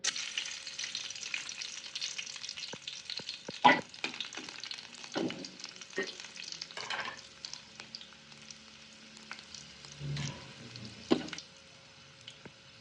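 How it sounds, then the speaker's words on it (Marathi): Garlic frying in hot oil in a pan for Marathi-style methi bhaji, a steady soft sizzle with occasional louder scrapes and clatters of a spatuala stirring, no voices. "आता आपण लसूण टाकून घेऊया आधी."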